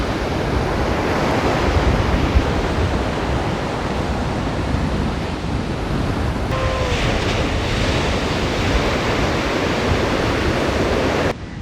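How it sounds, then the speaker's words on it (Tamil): Fierce ocean surf during flooding along the coast at Jaffna, Sri Lanka, roars as a loud, continuous broadband wash of breaking waves, with wind buffeting the microphone and no voices. "இப்போ பாருங்கள் எவ்வளோ மூர்க்கமாக இருக்குன்னு சொல்லி அலைகள் எல்லாமே"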